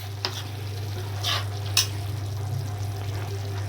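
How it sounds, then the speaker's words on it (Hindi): Chopped tomatoes drop into a pan of sizzling aloo mangodi curry, Rajasthani style, giving a steady close frying hiss with a few brief stirring scrapes and splashes over a low stove hum. "अब सब्जी में टमाटर डाल देती हूँ।"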